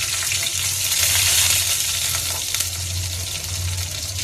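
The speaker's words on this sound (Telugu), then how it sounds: "ఆయిల్ బాగా వేడెక్కింది కదా. ముందు మామిడికాయ ముక్కలు మనం పచ్చిమిర్చి వేసుకుందామండి" Raw mango pieces and green chilies frying in hot oil for a tamarind-leaf and mango curry, a steady close sizzle with a low hum underneath and no voices.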